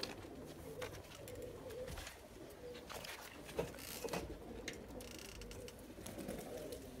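Pigeons coo softly and repeatedly, low burbling calls mixed with occasional wing flutters and faint background noise.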